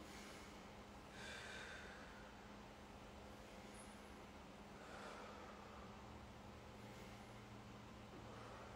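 Slow, audible breaths during a movement exercise, with a few deep inhales and exhales spaced apart over a faint steady background hum, and no talking.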